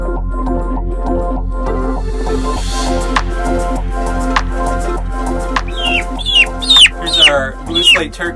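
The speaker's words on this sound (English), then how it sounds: "Here's our blue slate turkey that's all black." A blue slate turkey, all black, clucking and making sharp rising calls alongside chicken-like clucks, with a steady low hum beneath and louder bursts toward the end.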